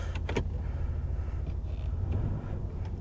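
A 2006 Chevy Monte Carlo SS with a 5.3L V8 is held on the brakes in drive, its engine giving a steady deep rumble, with a few light clicks near the start.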